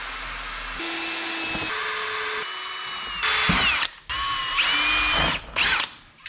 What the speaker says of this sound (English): I'm gonna take my drill and just drill out, almost like drill out the template of this guy